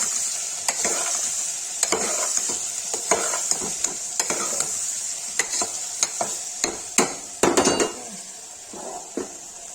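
Turnips frying with turmeric and red chili in a pan, stirred with a spoon: a steady sizzle runs throughout beneath repeated sharp scraping knocks of the stirring, loud and close, with no talk.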